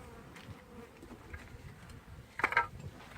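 Faint, steady buzzing of bees hums in the background during a bee removal, with a brief louder flurry of wingbeats near the end.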